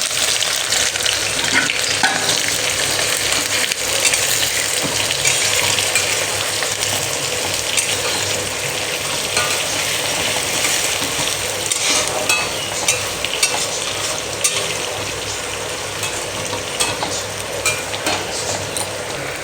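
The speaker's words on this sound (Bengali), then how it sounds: "পেঁয়াজটা লাল লাল করে ভাজা হয়ে গেছে" Onions frying in oil in a pan while being stirred, a loud, dense sizzle with continuous scraping and stirring strokes, close up and steady throughout with no talking.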